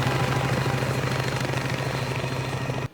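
Helicopter flying in a Resident Evil action film scene, a loud steady rotor chop and engine roar that holds evenly for about three seconds and then cuts off abruptly.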